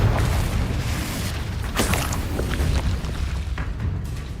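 Confringo fire spell explosions in Hogwarts Legacy, a rumbling low boom with sharp crackling bursts, steady and loud throughout with a few brighter pops in the middle.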